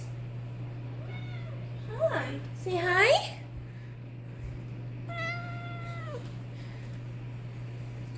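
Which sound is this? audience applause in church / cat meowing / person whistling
cat meowing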